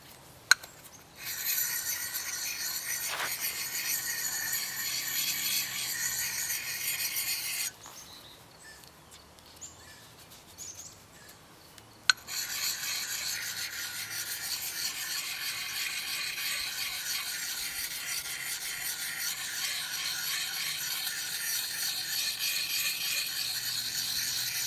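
Axe blade honed on the fine side of a round dual-grit coarse-and-fine stone wetted with spit, giving a steady close rasping scrape that runs continuously, pauses for a few seconds, then resumes at the same level.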